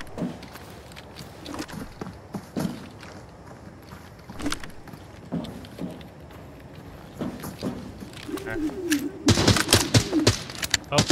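Gunshots fired at the player in the video game Arena Breakout Infinite: sporadic sharp shots, some distant, that build into a louder, denser burst near the end, with voices talking.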